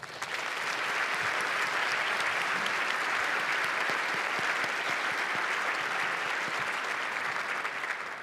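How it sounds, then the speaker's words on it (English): Audience applause at the Protect Women's Sports Gala 2026, a dense, sustained wash of clapping from a large crowd that holds steady for several seconds. "Let's give these champions a big round of applause."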